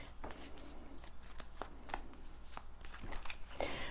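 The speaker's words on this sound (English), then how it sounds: "Hold on, let me mix these cards up a little bit again." Tarot cards shuffled by hand in repeated soft riffling bursts, close and fairly quiet, with no talk over them.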